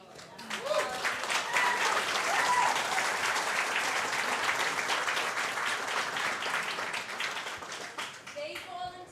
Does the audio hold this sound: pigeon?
no